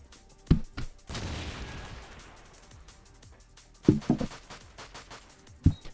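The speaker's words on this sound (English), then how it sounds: "They're just yeeting a few practice nades at each other at the minute." Practice grenades exploding in Call of Duty 2, several sharp game blasts: a pair near the start, a big rumbling boom that decays slowly, then two more bangs close together and a final one near the end.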